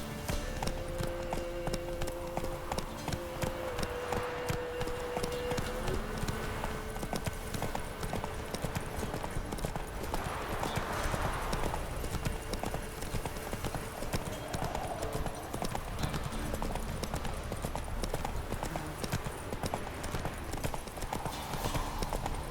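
Hooves of a horse clip-clopping steadily in The Witcher 3 video game, a continuous rhythmic trot over game ambience and music throughout.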